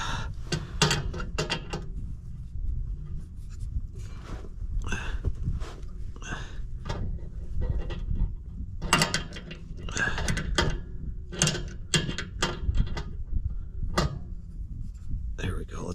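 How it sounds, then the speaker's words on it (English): Mechanical clicking and ratcheting from a crank or jack as an air ride cab mount is cranked into place on a 1983 spring ride cabover truck, with bursts of close clacks over low rumble and someone talking throughout. "Let's crank this thing in there some more."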